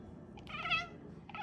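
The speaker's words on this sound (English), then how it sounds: "that's my cat chirping" A pet cat gives a couple of short, high chirping calls close by in a quiet indoor room, the second one briefer.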